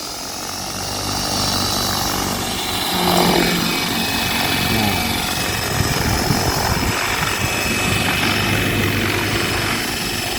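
An electric RC model helicopter's rotor whirs steadily and loudly on a single 550-size battery, a broad buzzing drone that builds slightly and holds, with faint speech underneath.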